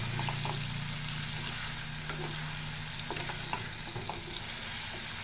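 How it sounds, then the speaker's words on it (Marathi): Green peas frying in oil in a pan for a paneer vegetable dish, a steady close sizzle with soft stirring scrapes and small crackles throughout, no voices. "मटरसुद्धा याच्यामध्ये फ्राय करायचं आहे"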